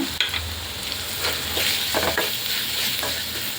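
Masala with finely chopped green chilies frying for mutton keema curry, a steady close sizzle with the scrape of a spoon stirring through it, no voices.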